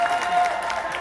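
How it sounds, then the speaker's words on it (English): A comedy-show crowd on a cruise ship applauds a winning stand-up comedian, with steady dense clapping filling the whole moment at an even level. "Please give this guy a big round of applause"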